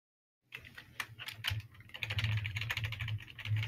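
Computer keyboard keys clatter in quick, irregular clusters of clicks after a moment of silence. The typing grows denser and steadier toward the end and is heard alone, close to the microphone.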